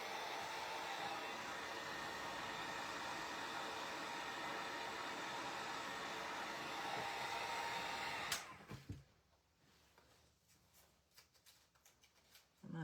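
A hair dryer blows steadily at close range to dry paint on a bamboo plant stand, a continuous broadband whoosh for about eight seconds before it cuts off abruptly, leaving faint handling noises.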